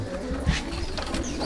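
Pet pigeons give soft, low coos and faint bird sounds while feeding a chick, heard close against a dense background hum.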